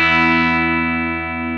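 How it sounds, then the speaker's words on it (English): Guitar played through a Quilter direct amp with the limiter fully up, a single sustained, heavily compressed note with clipped transients that rings evenly and fades slightly. "This is with the limiter all the way up."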